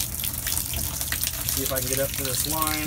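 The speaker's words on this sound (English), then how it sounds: "go ahead and turn on this water" Water runs from a tap into an RV bathtub with a cracked tub, a steady close gush that continues while someone talks over it.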